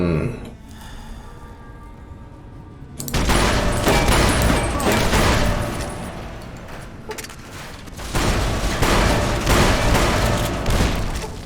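Gunfire and explosions in Fallout: New Vegas, loud dense bursts of rapid shots and booms in two heavy volleys separated by a quieter lull, near and forceful.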